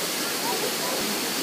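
Aşıklar (Nebiler) waterfall in Dikili, Izmir, pouring into a shallow pool, gives a steady, even rush of falling water that fills the whole short stretch at moderate loudness.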